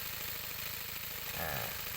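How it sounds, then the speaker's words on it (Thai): A carbureted engine, just tuned at idle, runs with a steady rhythmic chug before the throttle is blipped and the revs swell briefly, up close and alone. "เร่งดูว่า เครื่องยนต์นะครับ ทำงานปกติหรือเปล่านะครับ"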